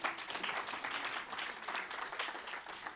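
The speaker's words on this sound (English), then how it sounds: "round of applause for you" A conference audience applauds, a quiet, fairly distant patter of many hands clapping steadily throughout.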